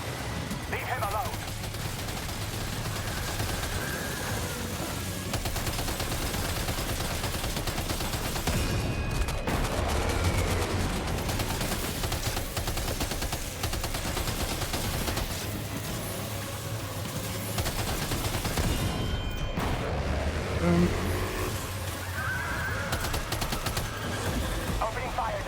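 Rapid bursts of gunfire and volleys of shots ring out in the video game Death Stranding 2, repeating over a constant bed of game sound across the whole stretch.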